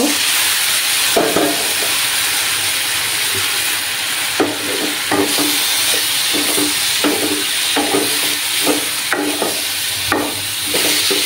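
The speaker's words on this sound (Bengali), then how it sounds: "এটাকে আমি ভালোভাবে নাড়াচাড়া করে নেব।" Ground cashew paste thinned with a little water is stirred in a hot pan while cooking a Bengali kakrol dish, with a constant sizzle and hiss and repeated scraping of a spoon against the pan, close and fairly loud.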